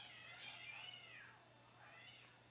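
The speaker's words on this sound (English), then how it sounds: "do you hear the cat?" Two cats fighting out of sight during an at-home yoga session, yowling in long rising and falling meows, fairly faint and distant, two drawn-out cries over a few seconds with no talk.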